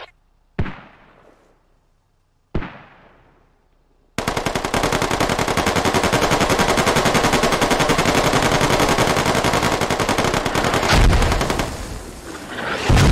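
Sustained automatic M4 rifle fire in a military video game, a few sharp single shots first, then a long loud continuous burst lasting about nine seconds before tapering off.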